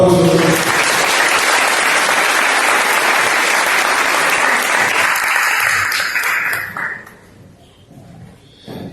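Loud, dense applause from a large audience welcoming a guest chef at a traditional-cuisine culinary event, sustained for about six seconds, then fading into scattered claps and quiet.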